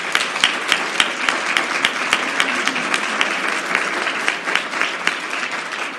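A crowd applauds steadily, with many sharp claps blending into a continuous wash of clapping that holds at an even level throughout.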